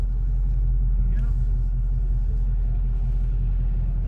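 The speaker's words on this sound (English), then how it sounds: "Here comes the school bus now." A school bus draws near along a road as a low, steady engine rumble that stays loud and even throughout, without much change.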